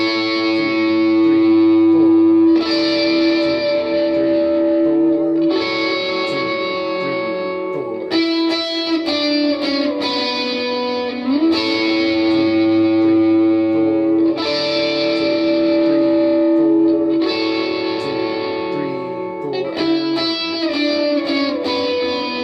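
Electric lead guitar runs through effects on the chorus of a worship song, opening on chiming triads and moving into the melody, with sustained, distorted, echoing notes played continuously and loud for the whole stretch.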